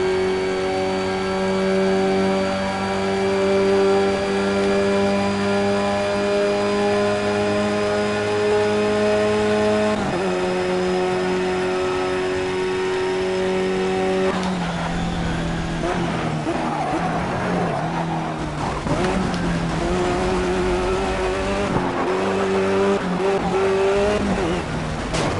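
Simulated race car in the Project Cars video game drives steadily, its engine a loud continuous drone that holds pitch, drops as it shifts, then turns rougher with tire noise and busier engine notes in the later half.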